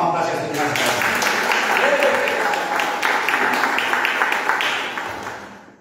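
Church congregation applauding at a worship service, a sustained, loud wash of clapping that swells and then fades out near the end, with some speech mixed in.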